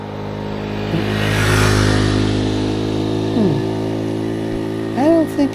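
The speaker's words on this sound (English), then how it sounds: "That's like a motorcycle." A motorcycle engine drones steadily and swells as it passes along the Allegheny River Trail, with a few short voiced sounds breaking in near the end.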